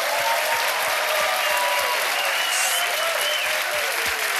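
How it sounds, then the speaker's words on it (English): A quiz show studio audience gives steady, full applause for the contestants, dense and close, continuing unbroken for several seconds with faint tonal sounds underneath. "Give them a big round of applause, please"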